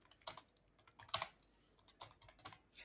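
Close, fairly quiet clatter of keys on a computer keyboard as a short text prompt is typed, with bursts of clicks in an uneven rhythm and one sharper keystroke, no voices.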